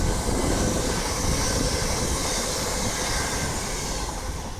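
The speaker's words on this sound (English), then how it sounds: "the next train to be coming through will be a 5-car Azuma by LNER" A five-car LNER Azuma train passes through Doncaster station on the East Coast Main Line, a loud, steady rolling rumble with wheel and rail noise sustained throughout, close by and with no talk.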